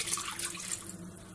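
A short extra splash of tap water runs into a large pot of free-range rooster meat, a close steady hiss of filling that tapers off toward the end, with no voices.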